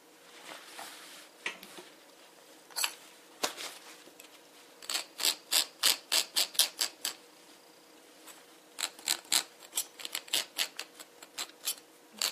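A home sewing machine stitches a bishop sleeve in short, regular rhythmic bursts of clacking needle strokes, separated by pauses, close and moderately loud, with no voices.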